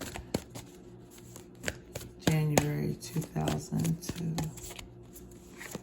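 Tarot cards being shuffled by hand, a few soft taps followed by bursts of riffling and flapping cards, close and moderately loud, no speech.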